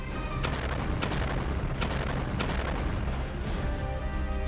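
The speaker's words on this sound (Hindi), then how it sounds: "जिससे जबरदस्त धमाके होने लगते हैं" Missile strikes explode at sea around a cargo ship in a Houthi attack, sharp booming blasts landing at irregular intervals over a constant roaring rumble, heavy and distant-sounding.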